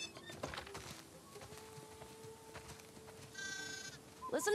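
Sheep bleat on a farm in The Last of Us Part 2 video game: several wavering calls at moderate distance over soft ambient background, with a louder, closer bleat at the very end.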